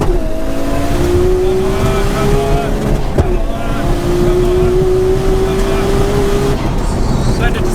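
A Nissan Skyline GTR R34 drag car launches down a quarter-mile strip, its engine rising in pitch through gears with a brief shift break, loud and sustained throughout.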